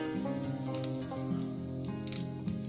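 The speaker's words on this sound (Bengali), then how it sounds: "কয়েক সেকেন্ড ভেজে নেব" Cumin seeds and a bay leaf sizzle in hot oil while cauliflower and potato posto is being cooked, a steady close frying crackle with a few brief sharper spits and no talking.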